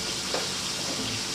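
Chicken frying in a pan is stirred, a steady close sizzle with faint scraping, alone without talk.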